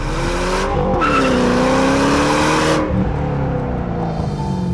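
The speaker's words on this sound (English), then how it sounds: "I can't help but light the tires up every time I shift" A 2010 Ford Shelby GT500 revs hard and shifts quickly, its tires squealing loudly in a sustained, wavering screech over a roaring engine close by.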